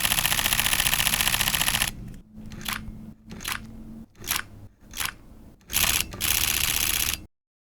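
A Fujifilm X-H2S mirrorless camera fires its electronic front curtain shutter in a series of close, crisp mechanical clicks, about a handful spaced irregularly, between stretches of loud broadband noise.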